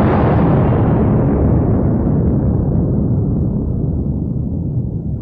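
Huge bomb explosion, a loud, deep continuous rumbling roar that slowly darkens and fades over five seconds, with no voices.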